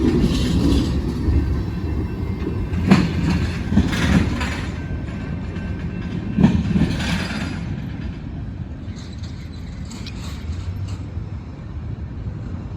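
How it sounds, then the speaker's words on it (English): A long freight train rumbles past nearby, a steady heavy roar with rattling wagons and occasional clanks, no voices. "This is a monster train here."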